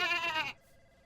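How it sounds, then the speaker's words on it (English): A sheep bleats once in an episode of The Office, a loud wavering, nasal cry lasting about half a second before it cuts off into quiet room tone. "Listen for the bleating of a sheep."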